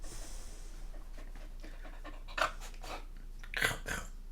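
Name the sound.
dog panting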